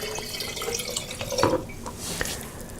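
Reverse osmosis water pours into a measuring cup with a steady, close trickle and splash, a few brief clinks and drips near the middle, and no talking.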